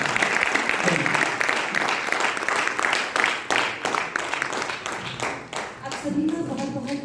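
Loud, sustained applause fills a cultural function staged by blind artists, many hands clapping steadily before fading near the end as a voice speaks over the final moments.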